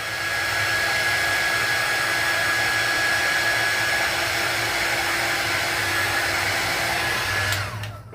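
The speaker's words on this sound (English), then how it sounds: "you just hit it with the heat tool and all the little lines go away" Heat tool blowing steadily on glue lines under rhinestones, a loud continuous hot-air roar that holds for several seconds and then cuts off near the end.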